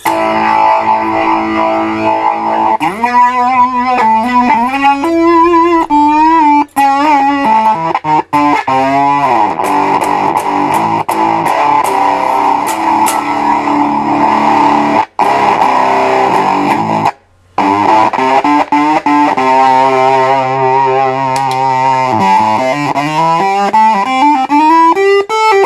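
Heavily distorted, fuzzy electric guitar through a 1960s-style fuzz pedal cranked up, playing sustained riffs and bends, loud and saturated throughout with a couple of brief dropouts.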